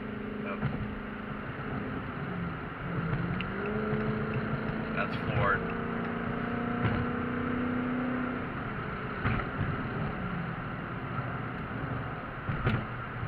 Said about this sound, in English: I'm going to try flooring it just to see if I had to pass somebody or get over